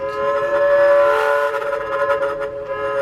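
Sn3 narrow-gauge model train sound system sounding a steady, sustained whistle tone for the full three seconds, loud and close, with faint mechanical rumble underneath.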